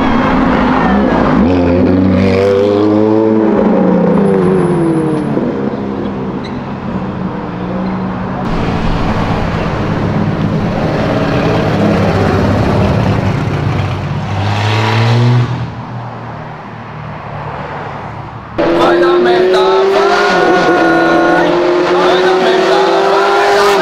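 Chip Foose's Chevrolet Opala roars through repeated hard accelerations, its engine note climbing and dropping in loud sweeps, with tire squeal, close and alone with no talking.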